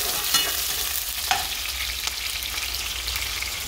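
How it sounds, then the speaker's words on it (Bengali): Chopped onion fries in oil in a pan until brown for a Sylheti dried fish and potato curry. A steady close sizzle carries on throughout, broken by a few soft stirring scrapes, with no one talking. "পেঁয়াজটা ব্রাউন কালার না হওয়া অবধি আমি এটা বেজে নিব।"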